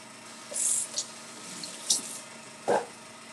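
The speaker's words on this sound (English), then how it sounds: "a quick wash of the hands" Hands are washed under a running kitchen tap while breakfast chaffles cook, in several short splashy bursts of water, fairly close.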